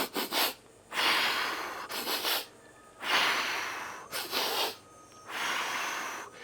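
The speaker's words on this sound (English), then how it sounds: "It's 3 quick inhales through the nose, hard exhale through the mouth" Three bursts of forceful breathing for a running technique, each a cluster of quick sharp nasal sniffs followed by a long hard exhale through the mouth, repeated close up with short gaps between.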